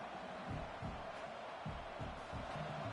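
Steady roar of a stadium crowd in an NCAA college football video game, broad and continuous with low rumbling swells, with no voices standing out.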